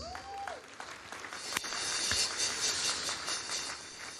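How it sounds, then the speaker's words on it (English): Clapping from the audience at the opening ceremony of an economic and investment summit in Asaba, a steady, moderately distant patter of many hands that holds throughout, with a single sharp knock partway through. "we ask you to encourage him with a hearty applause"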